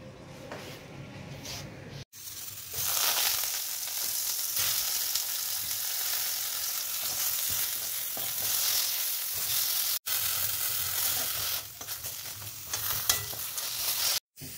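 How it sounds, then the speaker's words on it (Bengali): Okra and eggplant fry in a small amount of oil in a pan, a continuous close sizzle and crackle that stops briefly twice, with stirring noises and no talk. "একদম কম তেলে সেঁকে সেঁকে করেছি। তো ঢেঁড়স ভাজা বেগুন ভাজা হয়ে গেছে"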